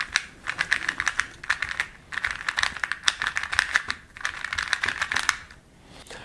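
A Zanchi 2x2 plastic puzzle cube is turned quickly, making close, crisp clicking in fast bursts separated by brief pauses. No one speaks.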